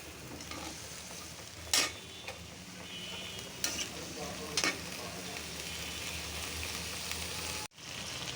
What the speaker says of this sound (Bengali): টমেটো দিয়ে সবজিটা, আলু আর শালগম কষায় নিচ্ছি।